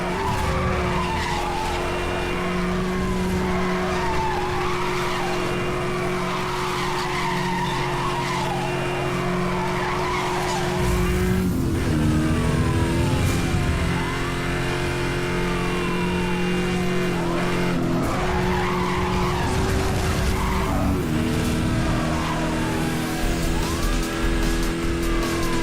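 Race car in Need for Speed Hot Pursuit roaring at high revs, with repeated long tire squeals and skids as it slides through corners, the engine droning loud and steady throughout.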